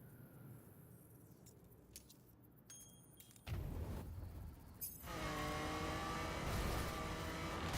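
Engine of a Mosalli Muira being driven in The Crew racing game, set in Miami, rising from a quiet idle to a loud, steady revving roar with clear harmonic whine after a few seconds.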